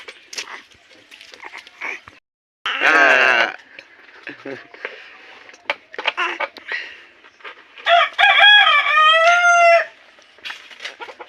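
Chickens cluck in scattered bursts while a person talks, and a rooster crows loudly twice, its long wavering calls standing out clearly.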